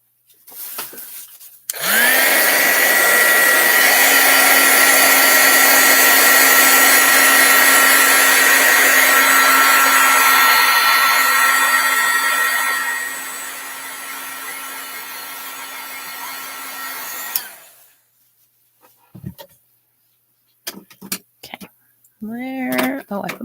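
Heat gun blowing hot air over black ink at a crafting desk, a loud steady whooshing roar that runs for about fifteen seconds before switching off, followed by faint handling sounds.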